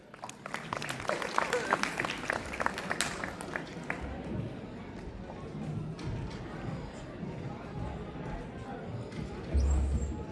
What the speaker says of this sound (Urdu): آپ کی بھرپور تالیوں کی گونج میں